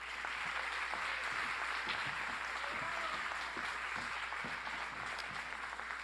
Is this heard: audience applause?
yes